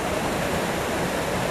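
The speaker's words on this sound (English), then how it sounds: "Look at that white water." A rushing white water river swollen by rain and snowmelt roars as a dense, steady wash of noise, loud and close, with no voices over it.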